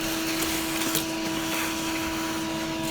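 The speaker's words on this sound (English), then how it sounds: "Now usually I like to vacuum over here, so clean up a little bit." A vacuum cleaner runs steadily while cleaning a car interior during a home oil-change job, a continuous close whine with a strong tonal hum and a faint rubbing of the nozzle against surfaces.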